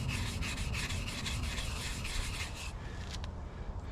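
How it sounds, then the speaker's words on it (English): Utility razor blades scrape heavy rust off a metal surface that has planer machining marks, giving quick repeated rasping strokes, close and steady, then a couple of lighter scrapes near the end, with no talking. "Carefully scraping the heavy rust off with utility razor blades."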